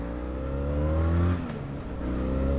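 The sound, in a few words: Benelli 502c motorcycle engine accelerating in first gear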